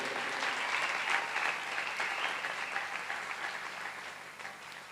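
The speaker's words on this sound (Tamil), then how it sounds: "ஸோ அவங்களுக்கெல்லாம் இவங்களுக்கு ஒரு கைத்தட்டு கொடுங்க வைஷ்ணவி." Audience applause at a classical music festival's twentieth anniversary celebration: a dense, even roar of many clapping hands filling the hall, holding steady and tapering slightly toward the end.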